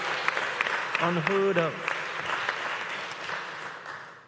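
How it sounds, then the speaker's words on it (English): An audience at a post-budget political meeting in Trinidad and Tobago breaks into sustained applause, the clapping loud at first and tapering off, with someone speaking briefly over it. "Give your MP a round of applause."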